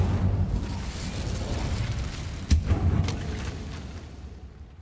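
Incendio fire spell cast in Hogwarts Legacy, a sudden whooshing burst of flame with a sharp crack midway, trailing into crackling rumble over a low ambient game background.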